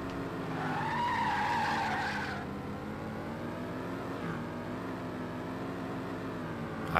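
A race car in the Xbox game Test Drive Overdrive skids with a loud, sustained tire squeal for about two seconds, then its engine hums on steadily at a lower level, with no talking.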